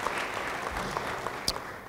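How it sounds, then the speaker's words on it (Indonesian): A church congregation claps during a sermon, a brief burst of scattered hand claps, fairly soft and slightly distant, with a few louder claps near the end. "beri tepuk tangan bagi dia"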